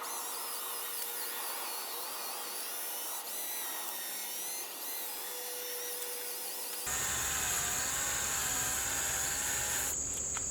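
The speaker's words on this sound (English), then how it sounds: "that's what the drill's already doing for you" A high, whining drill sanding a plastic headlight lens runs continuously with shifting pitch as it grinds, then changes to a louder, harsher buzz partway through.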